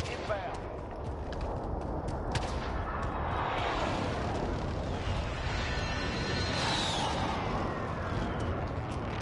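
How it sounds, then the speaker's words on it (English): Rumbling precision airstrike explosions in Call of Duty Warzone, a dense continuous roar of blasts and debris with some sharper cracks, fairly loud and sustained. "Be advised, friendly precision airstrike inbound."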